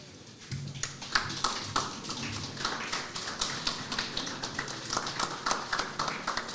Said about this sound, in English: I ask that you stand and give them a round of applause.